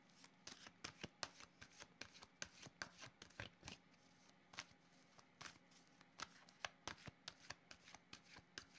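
Tarot cards shuffled by hand, a steady run of crisp riffling snaps and soft slaps repeating through the whole stretch at close range, fairly quiet, with no voices.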